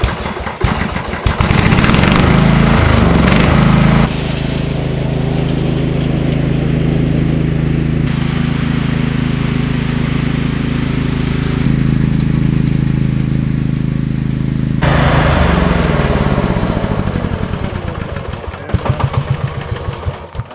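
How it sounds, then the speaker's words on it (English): A John Deere riding lawn mower engine runs loud and close while cutting wet grass in a field, its steady roar shifting in pitch and load as it works, then easing off near the end. "I'm gonna go tear it around down in the lower field and see how much mowing I can get done."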